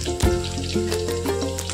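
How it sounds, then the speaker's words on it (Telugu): Mustard seeds and cumin seeds sizzling in hot oil in a pan, a close, steady frying crackle with small sharp pops scattered throughout and no talking. "ఆయిల్ వేడెక్కాక ఆవాలు జీలకర్ర వేసుకోవాలి."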